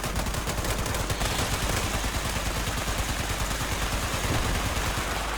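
Sustained machine gun fire in a video game battle, a dense continuous rattle of rapid shots that stays loud and close for the full five seconds, with no gaps.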